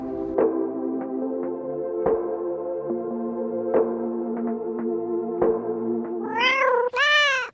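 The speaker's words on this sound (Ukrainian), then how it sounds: "коти це є частиною екосистеми міста Києва" A cat meows several times on a street in Kyiv, the calls rising into clear, close, drawn-out cries at the end over a steady tonal background hum.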